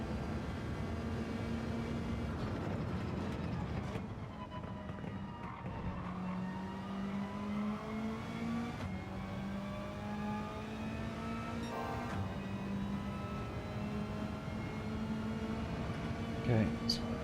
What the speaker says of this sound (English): Yeah, you can really over rev it in fourth